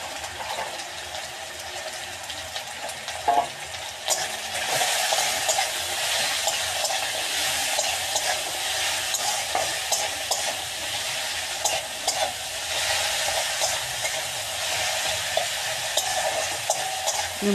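Potatoes frying in hot oil in a pan for a puti fish chorchori, a continuous bright sizzle broken by occasional scraping stirs and clacks of a spatula, close and steady with no voices.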